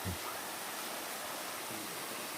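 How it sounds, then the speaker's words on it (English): Water from a waterfall pours over the front of an old abandoned railroad tunnel entrance at Dicks Creek in Rabun County, Georgia, making a steady, broad rushing hiss that fills the whole clip with no speech. "now it's got a waterfall that runs over the front of it"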